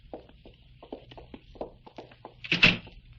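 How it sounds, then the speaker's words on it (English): A door opens in a radio drama scene set in a haunted house, heard as one brief, fairly loud thump near the end after a run of soft taps and knocks. "Open the door."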